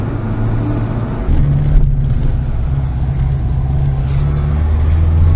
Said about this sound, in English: It comes down to a nice smooth idle.